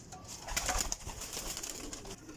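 Soft Sialkoti pigeon cooing, a few low murmuring calls close by against quiet background noise, with no other voices.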